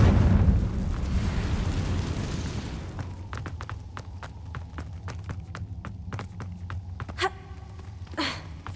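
Confringo spell explosion in Hogwarts Legacy, a loud rumbling blast at the start that decays over a few seconds, followed by scattered crackling debris pops and a couple of sharper hits near the end.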